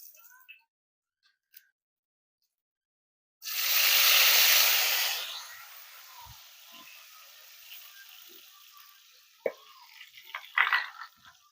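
Curry leaves dropped into about three spoons of hot oil burst into a loud, hissing crackle that flares up for a second or two, then settles into a softer steady sizzle with a few scattered clinks and pops near the end.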